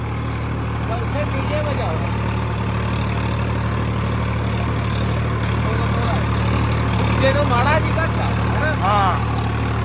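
A Swaraj 855 tractor engine idles with a steady low rumble, while faint bird chirps sound over it.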